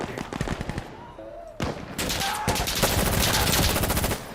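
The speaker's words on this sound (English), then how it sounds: "I can use my favorite gun, which is the Honey Badger" Rapid automatic fire from a Honey Badger rifle in the shooter game Insurgency: Sandstorm, loud close bursts of shots, a short pause, then a long sustained stream of rounds.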